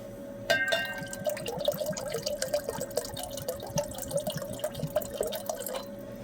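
Hydrochloric acid poured into a silver solution during coin silver refining makes a steady, close trickling and dripping, liquid splashing with a faint sustained tone underneath, continuing for several seconds alone.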